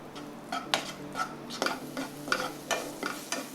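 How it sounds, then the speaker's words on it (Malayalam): Vegetables for a Spanish omelette are sautéed and stirred in a pan. A soft sizzle runs underneath while a utensil scrapes and clinks at a steady rhythm, roughly every half second, close and clear. "ഇതൊന്ന് വഴറ്റി നമുക്ക് മാറ്റി വയ്ക്കാം."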